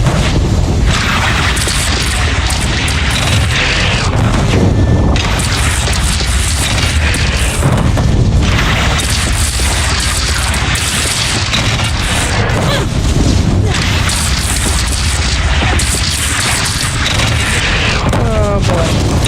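A bridge is shot down in Horizon Zero Dawn, setting off loud, sustained booming explosions and crashing debris that last throughout, with a few short louder bursts.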